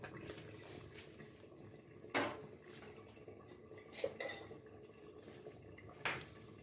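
A lid clatters onto a cooking pot of coriander chicken three times, sharp metallic clinks about two seconds apart over a quiet kitchen background.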